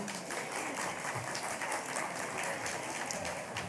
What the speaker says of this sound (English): It's a pretty weak round of applause